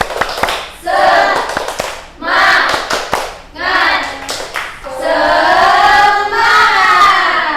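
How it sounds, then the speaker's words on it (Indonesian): A classroom of children performs the rhythmic 'tepuk semangat' clapping chant, sharp patterned claps alternating with loud group shouts in bursts, building to a longer sustained chanted cry near the end. "Ayo, 1, 2, 3, tepuk semangat."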